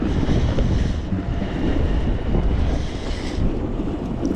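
Strong wind roaring and buffeting the microphone steadily, loud and unbroken, with no voices.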